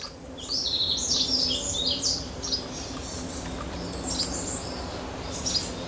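Small birds chirp and tweet around a hanging feeder made from a soju bottle outside a temple, with quick bright calls in several bursts over a steady low outdoor hum.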